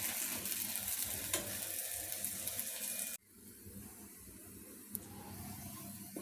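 Wheat adai batter frying in a pan sizzles steadily with a crackling hiss, then drops sharply quieter partway through, leaving a softer, fainter frying sizzle with one small sharp tap.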